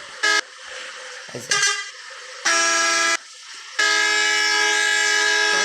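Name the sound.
horn in a modded video game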